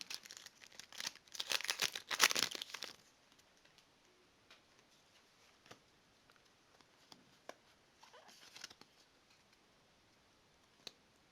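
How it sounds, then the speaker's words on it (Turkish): A Pokemon TCG BREAKthrough booster pack torn open by hand gives a few seconds of sharp foil crinkling and ripping up close. Quieter rustles and small ticks follow in a mostly hushed room. "bu arada paketi yırttım"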